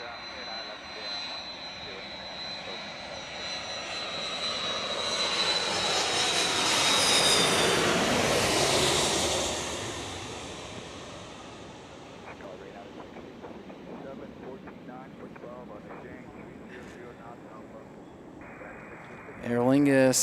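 An Aer Lingus Airbus A330 arriving from Dublin lands at Chicago O'Hare during storm conditions, its jet roar swelling from a distance to a broad peak overhead and then fading away, heard alone with a sharp burst near the end.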